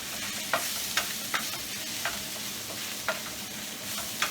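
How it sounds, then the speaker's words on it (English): Short grain rice stirred and toasted in a pan with onions, garlic and sausage, a steady low sizzle with soft periodic scraping strokes of a spoon, close and fairly quiet, no voices. "we're going to mix it and toast it with the onions and garlic"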